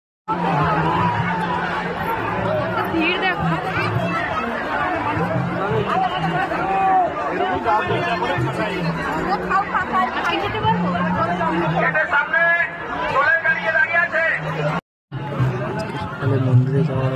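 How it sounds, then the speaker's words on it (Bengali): A huge crowd chatters at a temple festival pandal, dense overlapping voices and occasional laughter filling the space nearby, with a brief dropout near the end. "লক্ষ লক্ষ ভিড়।"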